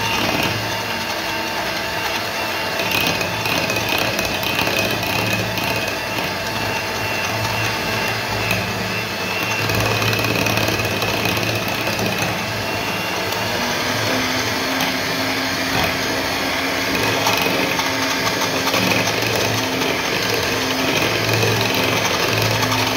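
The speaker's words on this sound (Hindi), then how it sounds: "कप केक फेंट के टाइम कभी भी आप बीटर की स्पीड बहुत ज़्यादा हाई पे ना करें, मीडियम पे ही रखें।" An electric beater whirs steadily as it mixes eggless banana chocolate chip cupcake batter, a loud continuous motor drone with slight shifts in pitch and no talking.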